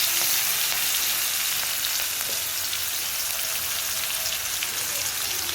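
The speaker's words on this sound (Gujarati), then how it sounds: "જીરું આપણું સરસ થઈ ગયું છે. એના અંદર આપણે નાખીશું લીલા મરચાં," Green chilies hit cumin seeds sizzling in hot oil, producing a close, constant crackling fry that sounds almost like heavy rain and holds steady throughout.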